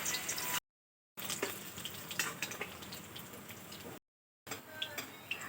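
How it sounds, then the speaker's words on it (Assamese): Fish frying in hot oil in a kadai, a steady crackling sizzle with scattered pops and ticks, heard nearby and interrupted by two short silent gaps. "এইফালে মই এয়া কেৰাহীত গৰম পাতি দিলোঁ, পাতি তেল দি দিলোঁ, আৰু এইফালে মই মাছখিনি ফ্ৰাই কৰি লৈছোঁ।"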